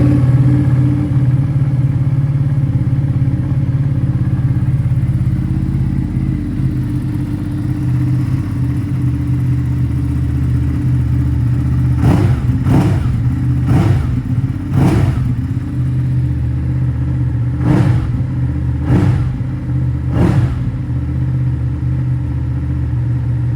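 A 2018 Ducati Panigale 959 Corse idles with a loud, steady low rumble, broken by a run of sharp throttle blips in two clusters near the end, each rev rising and falling quickly in a gloomy indoor space.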